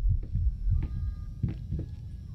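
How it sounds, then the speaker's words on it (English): A low heartbeat in the Layers of Fear horror game thumps in soft, regular double pulses, about five beats over a faint steady hum, with no talking. "I can't tell if that's my heartbeat or the game's heartbeat."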